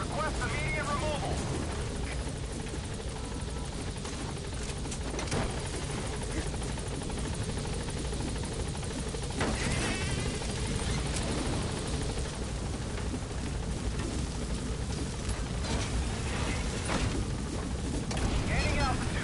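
The Pequod helicopter in Metal Gear Solid V: The Phantom Pain holds a steady, loud rotor roar throughout, with a radio voice speaking over it.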